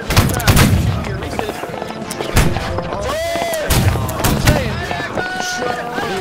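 Gunfire in the Holdfast zombies game: repeated sharp musket-style shots crackle through a busy battle mix, with several close reports and scattered distant fire under voices and game noise.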